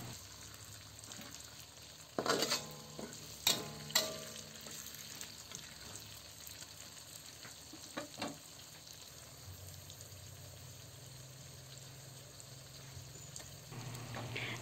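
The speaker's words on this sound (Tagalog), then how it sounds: "Haluin lang natin yan hanggang sa maluto na ang ating mga gulay." Vegetables for a chicken stir fry are stirred in a hot pan, a few loud scraping and clattering strokes early on over a steady soft sizzle that continues quietly throughout.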